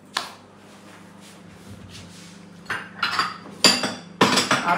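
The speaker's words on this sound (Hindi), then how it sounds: "तो अब ईमान बर्तन समेटेगी" Home dishes and cutlery are gathered up after a meal. Scattered metallic clinks and clatters of plates and utensils grow louder and busier toward the end, close by with no talking.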